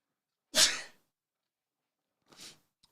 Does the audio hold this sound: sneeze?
yes